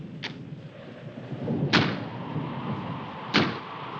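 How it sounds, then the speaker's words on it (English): Three sharp wooden bangs of a door slamming in the wind, spaced irregularly a second or more apart, over a low rushing background. "That's just the wind banging a door."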